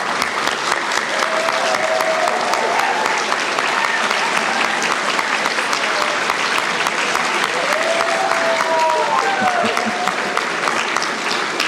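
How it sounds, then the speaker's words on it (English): A graduation audience at a university conferring ceremony applauds, a dense, sustained round of clapping from a large crowd filling the hall, with a few faint voices and cheers mixed in. "I'd ask you to stand and give them a round of applause."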